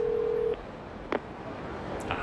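Payphone keypad in the video game Yakuza 0: a steady dialing tone holds for about half a second, then stops, followed by a few faint, scattered beeps over a low background hiss.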